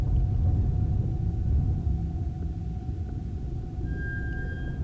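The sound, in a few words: rumbling of anomalies in video game S.T.A.L.K.E.R. The Wind of Time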